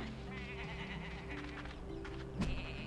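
In the video game Tak and the Power of Juju, a sheep bleats with a wavering call over steady game music and ambience, and a short sharp sound comes near the end.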